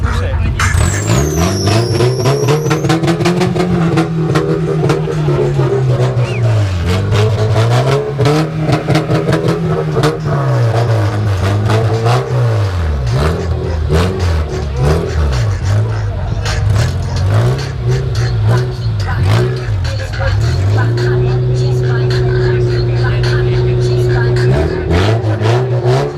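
Sports cars revving their engines at the Baikal Motor Show in Irkutsk, a loud sustained roar with rising and falling engine pitch, steady idling toward the end, and voices talking over it.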